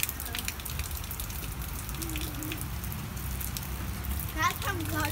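Rainwater drips and splashes steadily from a clogged rain gutter during a storm, a dense close patter with children's voices briefly heard in the background.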